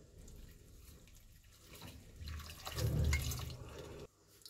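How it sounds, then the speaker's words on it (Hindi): Water poured into dhaba-style chana urad dal, a soft steady splash that swells toward the end and then cuts off abruptly, fairly faint and close. "और अब बारी आती है इसमें पानी की, तो अब हम इसमें पानी ऐड कर देंगे।"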